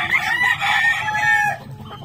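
A gamefowl rooster crows loudly and close by, one drawn-out crow lasting under two seconds with no voices.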